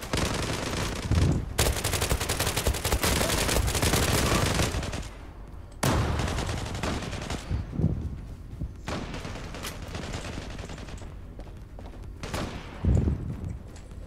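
Rapid automatic gunfire from the online shooter game Zula, long dense bursts broken by short gaps and single shots, loud and close with no talk over it.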